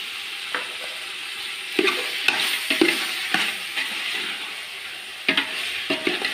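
Ginger garlic paste fries with turmeric in a pan, giving a steady sizzle broken by several scraping, clattering strokes of a spoon or spatula as it is stirred; no voices.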